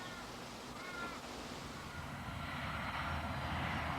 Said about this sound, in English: Plane is zooming.